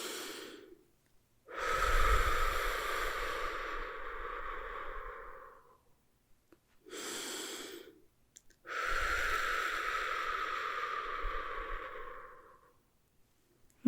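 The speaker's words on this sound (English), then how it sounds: "So, deep breath in" During a guided breathing meditation, a person draws slow, deep breaths in and lets them out, close and clear, in three long airy passes separated by quiet pauses, with no talk.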